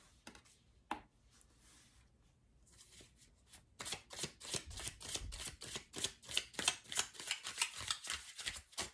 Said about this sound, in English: I'm just gonna get the cards out and then we'll read into them.